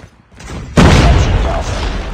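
Grenade explosion in the mobile shooter game Call of Duty Mobile, a loud sudden boom followed by a sustained rumbling wash of battle noise, close and heavy.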